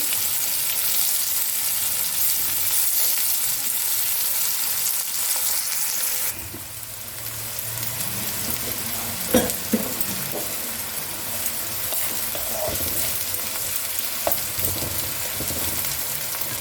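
Two medium onions hit hot oil left over from frying rohu fish for a curry, giving a loud steady sizzle that drops and changes at about six seconds, with a few scraping stirs after.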